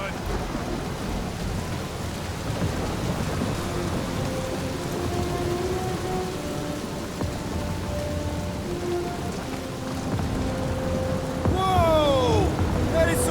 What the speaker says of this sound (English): That is some really crazy lightning out there!